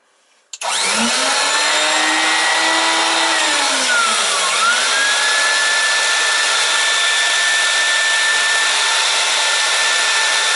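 A Numatic Henry HVC200 vacuum cleaner, rebuilt and run with its top off, fires up after a brief quiet moment and roars loud and close. Its motor pitch dips briefly partway through, then holds a steady, high whine to the end.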